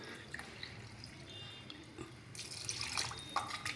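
Water poured into a pressure cooker of vegetable pulao with rice, a soft trickling flow that swells into a brighter, louder splash in the last second or so, no talk.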